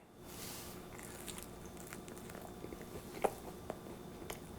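Close, quiet bites and chewing of salmon tartare pizza, soft crunches and squishy mouth sounds over a low steady background.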